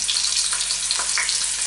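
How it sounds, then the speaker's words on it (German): Beef sears in hot clarified butter in a roasting pan, giving a close, steady, crackling sizzle with small pops and no voices. "Das Fleisch wird jetzt rundum im Butterschmalz angebraten."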